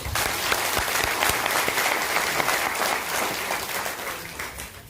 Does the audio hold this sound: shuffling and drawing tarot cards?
no